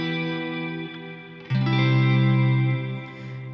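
A guitar note rings through heavy reverb on a Boomerang III looper, a sustained shimmering tone that drops away before a fresh, louder chord blooms and decays into a long wash.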